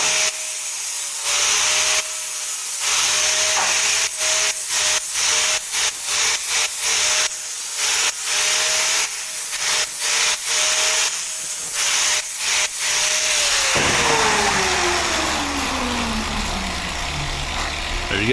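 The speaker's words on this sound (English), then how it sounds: "I'll take my grinder with a flap wheel" DeWalt grinder fitted with a 60 grit flap wheel grinding a saddle cope into steel pipe, a loud steady abrasive hiss that surges in repeated short passes, then winds down with a falling whine near the end.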